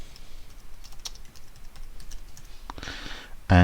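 Someone types a node name on a computer keyboard, with a run of light, quick key taps ending in a louder clack at the end.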